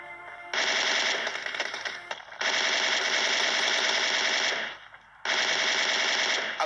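Automatic gunfire rattles during a video game fight in three long continuous bursts separated by short pauses, loud and dense, with no voices.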